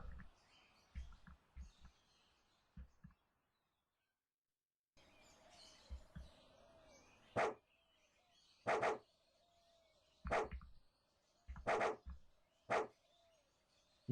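Dog barking in the video game Aveyond 3: a series of sharp, loud barks repeat at irregular intervals over a soft ambient background, with a brief silent gap early on.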